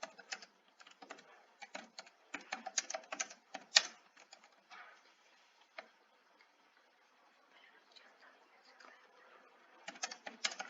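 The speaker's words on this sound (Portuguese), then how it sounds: "deixa eu digitar rapidinho" Quick bursts of keystrokes on a computer keyboard, clattering in uneven runs, with a quieter lull in the middle before another brief flurry of typing near the end.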